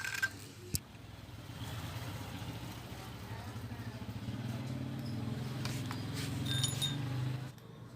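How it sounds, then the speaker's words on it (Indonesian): Electric drill with a 5 mm bit boring into the rear shock absorber of an automatic scooter, a steady motor drone that runs for about seven seconds after a sharp knock, then cuts off near the end. "Kemudian kita bor dengan mata bor ukuran 5 mili seperti ini."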